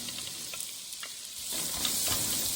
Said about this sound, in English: We will still fry it until the color change into golden brown.